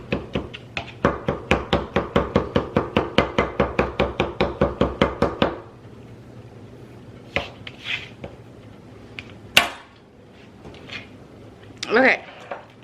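Fresh cilantro chopped on a cutting board for a freezer lunch prep: about twenty quick, evenly spaced knife strikes for several seconds, then a few scattered taps and scraping sounds.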